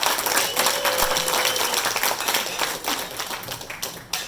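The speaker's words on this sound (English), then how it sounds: "Give them a round of applause." Dense audience applause at a Lions club installation gathering, a continuous wash of many hands clapping, loud and close, with no voices, fading slightly near the end.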